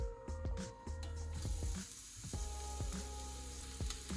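Shallots frying in about a tablespoon of oil over very low heat for a stir fry, a soft continuous sizzle close up, with repeated light clicking and scraping from tossing in the pan, no talking.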